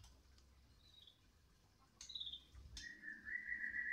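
Young Balak Terah Sabang birds kept as stock for sale give thin, high chirps and short whistled calls, faint and close, with quiet room noise underneath.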